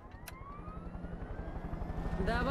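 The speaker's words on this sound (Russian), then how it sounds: "Вот он, мой божественный вертолет с ракетами" A rocket-armed helicopter flies in the video game Far Cry 5, giving off a steady rotor drone with rhythmic low thumping that grows a little louder toward the end.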